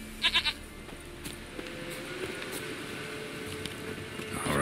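A goat in The Witcher 3 gives a brief quavering bleat at the start, followed by quiet game ambience with faint scattered sounds.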